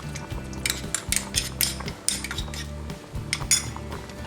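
Sauce for Korean jajangmyeon noodles stirred after starch and water are added, a metal utensil clinking and scraping rhythmically against the pot, close and clear with no talk.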